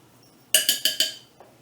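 Old Bay seasoned food mixed in a bowl gives four quick, bright clinks in a tight burst, each ringing briefly, then one fainter clink after a pause, all close and without any talk.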